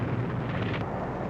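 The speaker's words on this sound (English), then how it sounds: "The Japs are bombing us from outside." Bombs bursting during the Japanese bombing of Corregidor, heard as a dense, continuous roar of deep rumbling blasts with no clear gaps, loud and sustained throughout.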